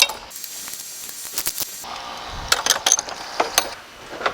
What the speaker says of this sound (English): Take my wrench and my socket, go ahead and tighten everything up.